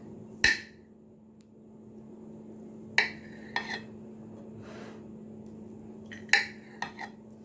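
A metal utensil clinks and scrapes against a pan while a steamed chocolate brownie is cut, giving a few sharp taps spaced several seconds apart over a quiet steady hum.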